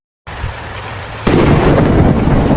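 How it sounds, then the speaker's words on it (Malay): Heavy rain falls steadily over a village during a thunderstorm. A sharp crack of thunder is followed by a loud, dense downpour that continues without any voices. "hujan semakin lebat"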